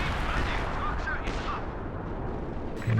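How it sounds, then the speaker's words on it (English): Howitzer artillery strike in Company of Heroes 2, a dense, rumbling barrage of booming impacts and blasts that stays loud and continuous throughout, with no talking over it. "Okay, howitzer coming down."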